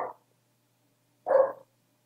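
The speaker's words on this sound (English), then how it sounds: "And you might be hearing my dog, Gonzo, barking at my husband coming in." A dog barks indoors in a quiet room while a person comes in, giving two short, fairly faint barks a little over a second apart with silence around them.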